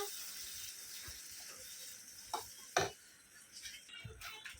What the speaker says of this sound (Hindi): मसाले को अच्छे से 5 मिनट तक भून के लेंगे